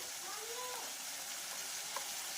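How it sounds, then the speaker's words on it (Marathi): Spices and vegetables sizzle and fry in a hot pan, a steady close hiss with faint stirring scrapes running throughout. "आता याला छानपैकी असं आपण फ्राय करून घ्यायचं आहे"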